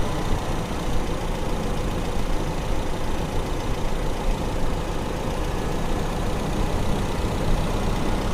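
A carbureted Toyota car engine idling while its RPM is adjusted, a steady, loud, continuous engine drone with a broad rumbling hum and no clear change in pitch.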